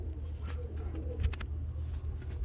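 Pigeons cooing softly in a loft of fancy show and costume pigeons, low murmuring coos over a rumbling background, with no talk.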